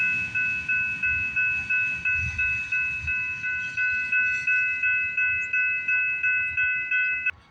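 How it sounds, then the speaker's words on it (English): A LORAM rail grinder maintenance train passes with a steady rumble under a loud, regularly pulsing two-toned warning signal that repeats evenly for several seconds, then cuts off abruptly. "Look at that, the maintenance car's coming back."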